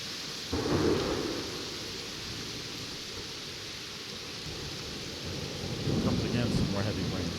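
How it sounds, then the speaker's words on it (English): Heavy rain pours steadily through a severe thunderstorm over New York Harbor, with low rumbles of thunder swelling near the start and again toward the end, the downpour a constant hiss throughout. "Comes again some more heavy rain."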